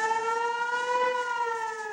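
Civil defense air-raid sirens in Israel wail steadily, a sustained harmonic tone held without break at a moderate, slightly distant level.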